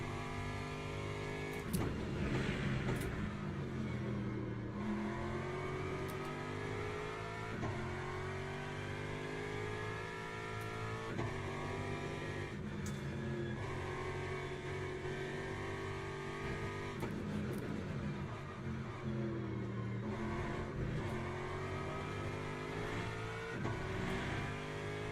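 LMP2 prototype race car engine in a racing video game, a continuous high revving drone rising and falling through gear changes with brief sharp shifts, steady and close without talk.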